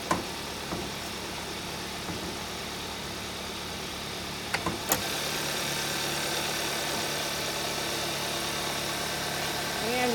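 A 2015 Kia Optima with a 2.4-liter GDI four-cylinder engine idles steadily with the hood open. There is a low, even hum with a faint ticking texture, a couple of brief clunks midway, then a slightly louder constant drone.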